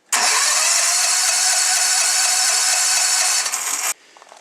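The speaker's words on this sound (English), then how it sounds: "now I'm going to hit the button here to see if the generator cranks over" A portable generator engine cranks over hard under power from a Harbor Freight Viking jump box, a loud, strong, continuous starter whir lasting nearly four seconds before dropping away.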